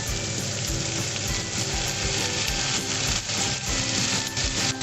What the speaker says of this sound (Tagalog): So habang ginigisa na po natin